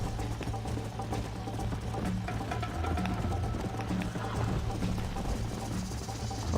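Horse hooves clip-clop steadily in the Red Dead Redemption game, a continuous galloping rhythm over low rumbling game sound and music, with no talk over it.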